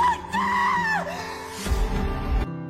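A person in a film lets out a sharp scream of fright on finding scattered human remains, a loud rising cry that breaks off, followed by a rumbling low thud.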